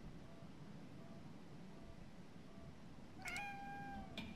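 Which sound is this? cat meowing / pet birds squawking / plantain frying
cat meowing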